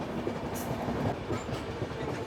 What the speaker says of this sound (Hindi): और ये है fastest double decker of India, सबसे तेज़ चलने वाली AC डबल डेकर एक्सप्रेस हमारे पूरे इंडिया में।